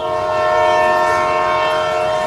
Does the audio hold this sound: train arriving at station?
yes